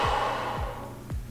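A person breathing out during a beginner exercise workout for seniors, with three soft, airy exhalations spaced at a steady rhythm, close and fairly quiet.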